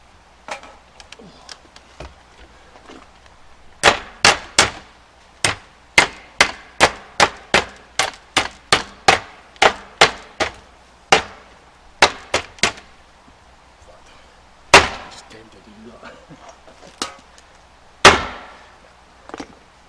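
Repeated hard hammer blows strike a springy wooden bed frame in a fairly steady rhythm, some sharp and loud, others duller, with brief pauses between bursts.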